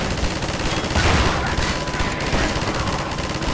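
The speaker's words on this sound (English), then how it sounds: "Just have to stay on the machine gun." Machine gun fire in the video game Half-Life 2, a dense, continuous burst of rapid shots filling the whole stretch at steady loudness, with no talking.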